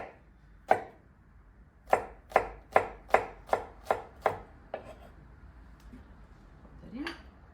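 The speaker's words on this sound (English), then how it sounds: "we'll just roughly chop up the garlic" A knife roughly chops garlic on a board with one sharp close knock, then a quick run of about seven evenly spaced crisp chops that fade into a final lighter tap. A voice speaks faintly near the end.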